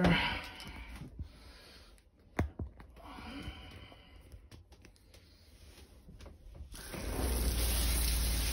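Water runs from a shower in a Jayco RV camper during winterizing, a steady broadband rush that grows louder and fuller toward the end after quieter stretches with a few knocks.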